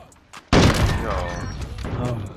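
A loud gunshot in a video game hits sharply after a brief quiet, its boom decaying under continuing noise while a voice talks over the aftermath.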